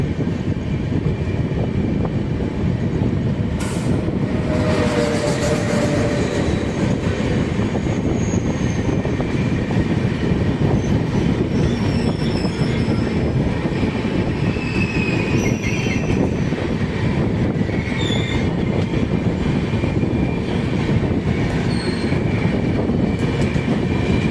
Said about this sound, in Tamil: இன்கமிங் கோயம்புத்தூருடைய லெஜெண்டரி ட்ரெயின் சேரன் அதிவேக விரைவு வண்டி